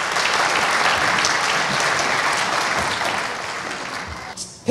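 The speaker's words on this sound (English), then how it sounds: "Big round of applause for Town of Ajax." An audience at a Town of Ajax community celebration applauds loudly and steadily, the clapping sustained throughout before fading near the end.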